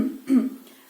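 A single short human throat clearing, a close, brief voiced rasp followed by a second small scrape, alone in a quiet room.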